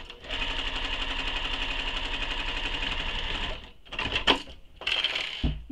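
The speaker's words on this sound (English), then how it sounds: "We're going to stitch together along the top edge, using the seam allowance given in the pattern." A sewing machine runs steadily for several seconds, stitching two fabric layers along the top edge of a sling pack. The motor drops out briefly, then the machine starts up again in two shorter bursts.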